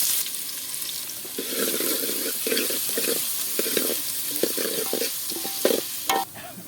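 Onions frying in a pan for a Gujarati dish, a steady sizzle broken by repeated bursts of stirring and scraping, close and fairly loud, with no talk.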